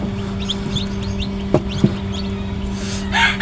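Newly hatched chicks in a homemade incubator, a few soft high peeps scattered over a steady electrical hum, with a couple of light knocks and a brief louder rustle toward the end.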